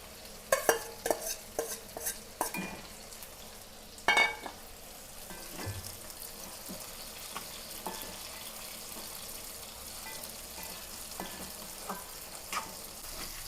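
Fried prawns stirred into a simmering gravy for prawn roast: a burst of spoon-and-pan clanks and scraping at the start, then a steady soft sizzle with occasional stirring knocks, close and fairly quiet.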